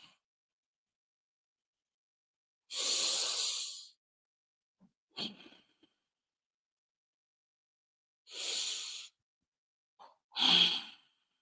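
Slow, deliberate breaths during a guided breathing exercise, with two long airy exhales, each followed by shorter sharp breath sounds, close and clear with silence in between.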